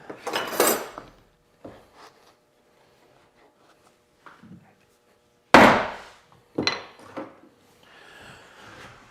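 Steel chisels, about 1/2 and 3/4 inch, chopping and paring out wood to clean a joint for an overlap drawer: a few sharp knocks and scraping bursts with quiet gaps between, close and moderately loud.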